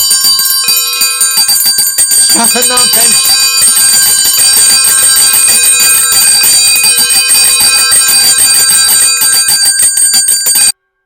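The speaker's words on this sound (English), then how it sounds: "soon it rang out loudly, and so did every bell in the house" Many house bells ring loudly together in a dense, sustained metallic clangor, with a voice briefly shouting over them, in a radio play.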